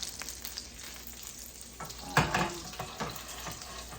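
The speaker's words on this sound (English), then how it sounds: "I have turned the cutlets over in the pan" Chicken cutlets sizzle in a frying pan after being turned, a soft steady crackle broken by a louder spatter and a few small clinks, heard close and alone.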